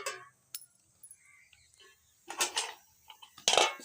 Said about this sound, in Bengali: এখানে ঢাকনাটা দিয়ে দিলাম